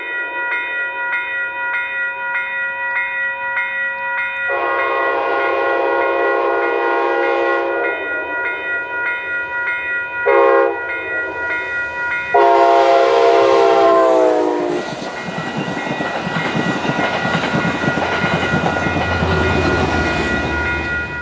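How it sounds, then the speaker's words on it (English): Amtrak 284, a passenger train on the Hudson Line at Manitou, sounds its chord horn in several long and short blasts, then roars past with loud rushing wheel noise that lingers to the end. "Amtrak 284 is next to come south through Manitou."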